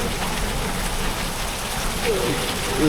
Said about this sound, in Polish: Jest to wodospad nie Niagara.